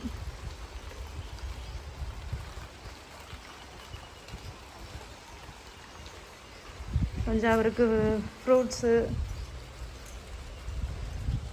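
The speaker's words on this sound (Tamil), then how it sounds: "மாமனாரை பார்க்க போகணும் ஆனால் மழை பெய்யுது" Rain falling steadily, a continuous soft hiss throughout, with a person talking briefly over it partway through.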